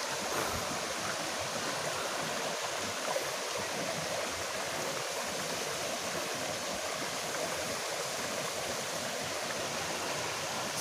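Tinakayanan Falls in Labrador, Pangasinan, heard as a faint, steady broadband rush of falling and flowing water at some distance, unbroken throughout.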